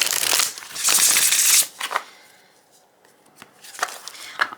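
Tarot cards from a full-size Unicorn's Journey deck being shuffled, with bursts of riffling at the start and scattered softer card flicks later, close and fairly loud, with no talk.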